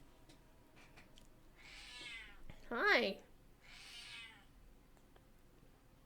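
A house cat gives one clear, rising and falling meow midway, framed by softer breathy murmurs before and after, close and quiet, with a person briefly speaking.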